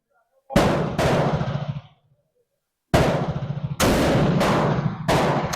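A 1903 Springfield rifle fires at a target outdoors in several loud, sharp reports, each trailing off in a short echo, with a pause between the first pair and the rest.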